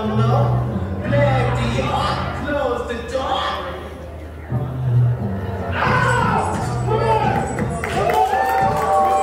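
Crowd at an independent wrestling show in Warsaw, Missouri, cheering and yelling for wrestler Blaire Dior, with a ring announcer talking over the steady, loud crowd noise.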